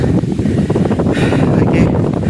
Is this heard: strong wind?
yes